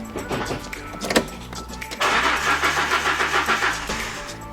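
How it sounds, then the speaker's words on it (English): A Fiat Barchetta engine cranks without starting while its fuel filter is being removed. A brief clunk is followed by a loud, close, rhythmic chugging of the starter turning the engine over for a few seconds, with no catch. "I'm going to turn the engine over now"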